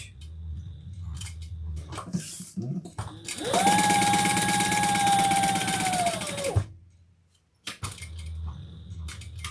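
A sewing machine bastes a fabric wallet in one steady whirring run of about three seconds that stops abruptly. Light handling clicks and rustles come before and after, all close by.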